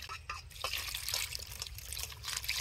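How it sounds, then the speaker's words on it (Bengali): Raw prawns being rinsed in water in a village kitchen, with soft splashing, dripping and trickling going on steadily and close by for the whole stretch. "এবার চিংড়ি মাছগুলো ভালো করে ধুয়ে নেব।"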